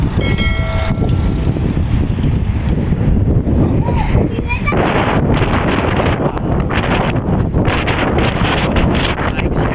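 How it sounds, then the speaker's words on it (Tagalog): Strong wind buffets the microphone in continuous rough gusts, loud and close, with voices faintly mixed in. "Malakas pa rin ang hangin pala dito."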